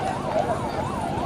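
An ambulance siren wails in a rising and falling cycle at a Thenkarai manjuvirattu bull-taming event in 2024, steady and moderately loud beneath crowd noise and chatter.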